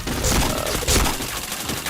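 Video game gunfire in a chain of headshots, a loud dense burst of rapid shots with heavy blasts, close and continuous.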